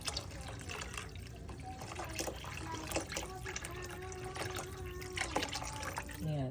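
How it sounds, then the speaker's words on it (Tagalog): Water pours steadily into a pot of lentils for Filipino sautéed lentils, a continuous close splashing and trickling fill lasting several seconds. "So, nasali na natin yung lentils dito at lagyan natin siya ng tubig."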